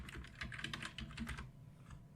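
Fingers type quickly on a computer keyboard for about a second and a half, a close, quiet run of clicking keystrokes that stops abruptly, with one last faint tap.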